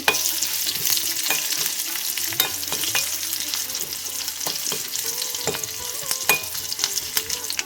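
Dried red chilli and garlic cloves crackle and sizzle in hot oil for tempering, with sharp popping bursts and occasional utensil clinks over a constant frying hiss.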